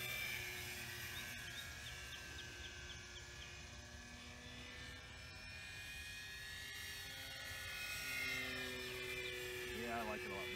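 A Flex Innovations Mamba 10 RC airplane with its flight controller removed flies overhead, its electric motor giving a steady high whine that swells and fades faintly in the distance while people talk nearby.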